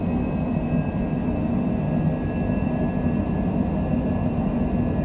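A Citation Longitude jet on its takeoff roll from Rapid City in a flight simulator game, a steady, dense engine roar with faint high whining tones running throughout at an even level.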